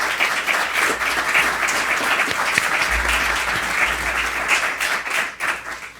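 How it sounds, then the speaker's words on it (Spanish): Strong audience applause at a Vodafone and Universidad San Jorge cybersecurity event, a full, steady burst of clapping from a large room that holds at an even level throughout. "Me gustaría pedir un fuerte aplauso para todos ellos."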